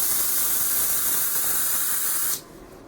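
A steady, close hiss of an airbrush spraying black paint thinned half-and-half with solvent at 30 psi, continuous for a couple of seconds before cutting off abruptly into quieter room tone.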